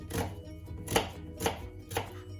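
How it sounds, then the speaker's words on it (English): A kitchen knife chops onion finely on a board, four evenly spaced crisp thuds about half a second apart, close and clear with nothing else around. "onion or 2 small ones using the bridge and claw grip, nice and finely cut"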